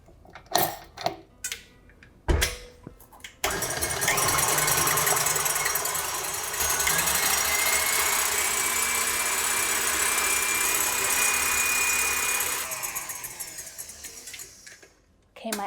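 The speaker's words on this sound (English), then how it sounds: "I'm just going to use a whisk attachment to whisk my eggs." An electric mixer fitted with a whisk attachment beats egg whites in a bowl. A few clunks come first, then a loud, steady motor whir runs for about nine seconds, its pitch shifting slightly, before it winds down.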